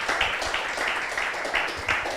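A church congregation breaks into steady, dense applause for about two seconds, a continuous wash of many hands clapping at close range with soft surges in rhythm.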